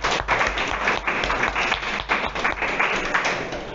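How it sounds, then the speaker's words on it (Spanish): Audience applause at a university philosophy panel discussion: dense, steady clapping from a room of people, fairly loud and continuous for the whole stretch with no voices on top. "Un aplauso para él."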